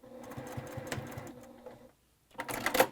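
A sewing machine back-stitches through quilt binding in short bursts of dense mechanical whirring, then goes quiet for a moment before a brief, louder final run of stitching.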